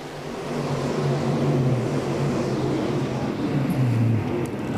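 Dirt late model race cars roar around the Golden Isles Speedway track under green, a dense, steady engine drone that swells and holds with shifting pitch throughout.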